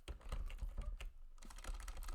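Quick, uneven clicks of fingers typing on a computer keyboard, close and fairly quiet, with a short pause midway and no talking.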